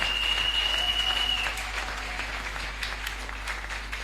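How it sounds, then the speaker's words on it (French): A church congregation applauds in steady, continuous clapping at moderate loudness, with a high electronic whine fading out early on. "Acclamons encore très très fort"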